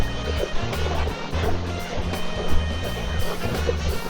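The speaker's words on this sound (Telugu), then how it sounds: "water crossing" An off-road vehicle fords water near Hatta in Dubai, its engine rumbling low and steady beneath continuous splashing and surging water for several seconds.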